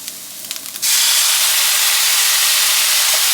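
A hot pan of stuffing mixture is deglazed off the heat with extra dry vermouth, a few light clicks giving way to a sudden loud, sustained hiss of steam and sizzle that holds steady to the end.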